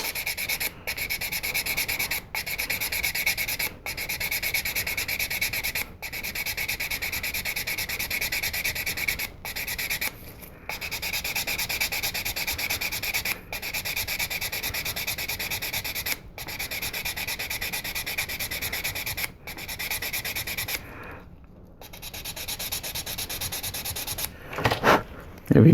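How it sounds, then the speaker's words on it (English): Continuous scratchy sanding on a small hard plastic part of a 1/72 scale model, flush to magnets, steady rubbing strokes broken by brief pauses, close up and fairly loud. "So we're just sanding this down flush to the magnets"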